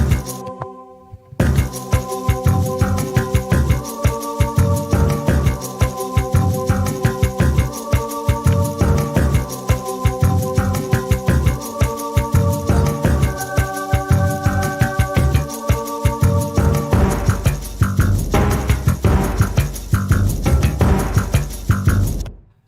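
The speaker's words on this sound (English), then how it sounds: "I'm making some Super Metroid style music" Super Metroid style video game music track with layered synth melodies, drums and bass, loud and dense, starting after a brief silence and playing continuously to a quick fade.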